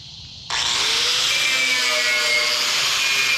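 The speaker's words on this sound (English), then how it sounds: "So a bit of wire brushing and sanding." Wire brushing and sanding on a rusty metal table top kicks in suddenly with a loud, steady abrasive whir and scratchy grind, continuing close and uninterrupted with no talking.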